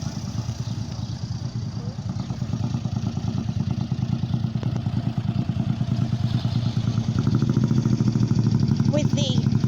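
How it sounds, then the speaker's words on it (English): A Morgan three-wheeler with a very large side-mounted exhaust rumbles past at a classic car meet at the Dovecote Inn, Laxton, its throbbing, pulsing engine steady and close, with a person talking over it. "a Morgan three-wheeler"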